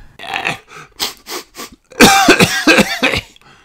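During a Peppa Pig picture book read-aloud, a voice imitates sneezes and sniffly coughs in a string of loud, close bursts, first several short ones and then a denser cluster of heavier, harsher expulsions.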